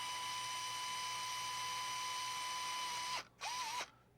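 A step drill bit bores out a plastic part from a 1/16 scale Leopard 2A6 tank model kit, giving a steady high whine that stops briefly, then restarts with a wavering pitch before cutting off.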